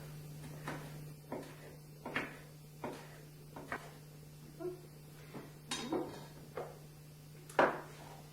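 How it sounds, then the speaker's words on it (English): A kitchen knife makes small, quick cuts on a cutting board, shredding basil into thin strips, giving a series of soft, evenly spaced taps over a steady low hum, close and fairly quiet. "I'm just going to make tiny, tiny cuts to make little shreds."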